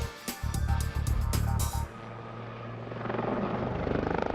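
A helicopter flies a loop, turning upside down; its rotor thuds rapidly and loudly at first, then fades into a steadier, duller engine drone that swells again as it comes around.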